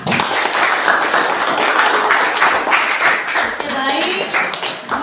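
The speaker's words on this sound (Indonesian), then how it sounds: "Tepuk tangan untuk kelompok 5." A classroom of students claps for a group, a dense burst of hand claps running several seconds with a voice talking over it.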